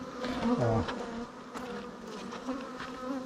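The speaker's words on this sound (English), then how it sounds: "Got some real nice bee coverage up top here" Agitated bees swarm and buzz around a hive being tended, a dense, steady drone close to the microphone, swelling slightly at moments.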